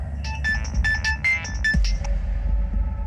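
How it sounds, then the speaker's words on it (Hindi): A melodic electronic ringtone plays close by, a run of bright repeating notes over a low background hum, with no one speaking. "किसका फोन है?"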